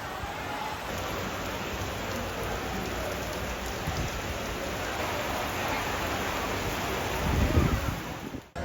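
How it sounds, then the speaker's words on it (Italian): Sudden tropical rain shower pouring down in Kuala Lumpur, Malaysia: steady, dense hiss of rain falling on surfaces, continuous and fairly loud throughout, swelling a little near the end. "Vista la pioggia, è arrivato di botto. E qui è normale, in Malesia è normalissimo."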